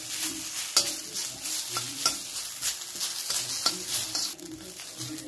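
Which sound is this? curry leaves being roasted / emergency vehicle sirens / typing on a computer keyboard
curry leaves being roasted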